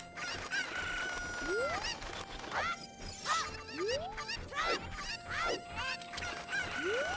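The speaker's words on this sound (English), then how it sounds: "Where the hell's this chicken?" A rooster crows repeatedly in Zelda: Ocarina of Time while hens cluck around it, several rising cock-a-doodle-doo calls spread steadily over the span, loud and close amid busy farmyard chatter.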